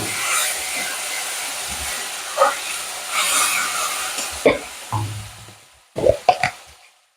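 Mustard paste and slit chillies fry in a pan for a Bengali bhola fish dish, making a steady, close sizzling hiss punctuated by several soft plops and clattering stirs that grow sharper toward the end.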